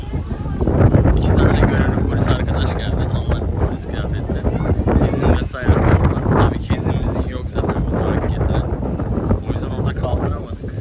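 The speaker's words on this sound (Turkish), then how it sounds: "Şimdi rüzgar da var çok fazla." Heavy wind in Amasya, Turkey, buffets the microphone in loud, rumbling gusts throughout, with bursts of crackling noise and no clear speech.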